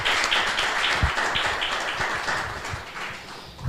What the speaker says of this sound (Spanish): Así que yo diría otro aplauso también para Julia.